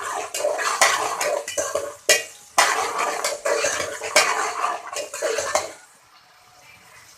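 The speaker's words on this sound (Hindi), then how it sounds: "ये प्याज हमारी फ्राई हो रही है।" Onions being fried in a pan for spiced potato tahiri, with loud close scraping and clanking of a utensil stirring against the pan in bursts over a faint sizzle, then quieter frying at the end, no talk.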